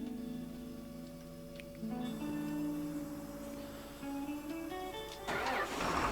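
A tractor engine starting in Farming Simulator 2019: a steady mid-pitched engine hum turns over, then settles into a louder, rougher idle with a faint ticking, heard alone without talk.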